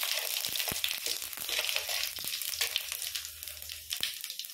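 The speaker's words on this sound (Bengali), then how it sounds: "একটু ভেজে নিচ্ছি।" Bay leaf and dried chilli sizzle steadily in hot oil for tempering, a continuous close crackling fry with a few sharper pops and the odd stir scrape, no talk.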